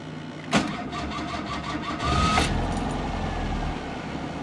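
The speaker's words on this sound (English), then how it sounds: "At least it starts up every time I try and start it." A car engine turns over and catches after a brief crank, then settles into a steady mid-pitched idle, close and loud with no talking.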